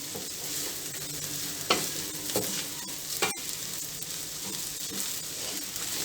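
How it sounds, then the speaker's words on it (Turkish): A spoon stirs bulgur pilaf with turmeric, black pepper and spices in a pot, giving soft scraping strokes and a few sharper knocks against the pot over a faint steady sizzle. "Şimdi karıştıracağım tekrar ve suyunu koyacağım."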